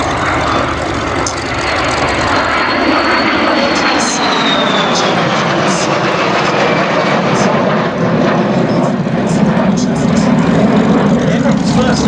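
A de Havilland Vampire twin-boom jet fighter at the Duxford air show: a steady, loud jet roar fills the whole stretch, with a rising whine and someone talking over it.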